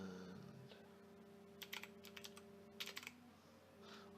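Typing on a computer keyboard while working in Python code, heard as quiet clusters of quick key clicks in two short bursts over a steady low background hum, with no talking.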